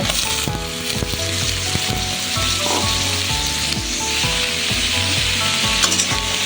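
Onion and snake gourd frying in a pan for a Bengali coconut snake gourd dish, a steady close sizzle that runs the whole time with occasional scraping and stirring knocks.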